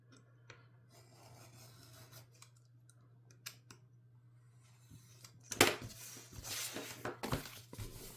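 Scissors trimming paper while making a craft album, quiet rasping snips and rubbing over a steady low hum, with a louder cluster of cuts and paper handling toward the end.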